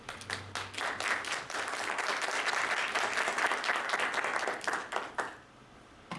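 An audience at a lecture applauds with sustained, fairly close clapping that swells, holds steady for several seconds, then thins out and stops near the end.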